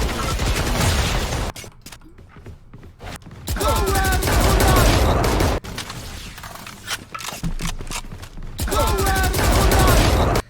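Video game gunfire comes in long, loud, rapid bursts of shots separated by short quieter gaps, with some brief vocal-like game sounds mixed into the firing.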